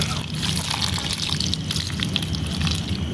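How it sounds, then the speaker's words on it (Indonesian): Water poured onto a newly planted, firmly set bougainvillea cutting, a steady splashing trickle running continuously throughout at moderate loudness. "Kita siram menggunakan air"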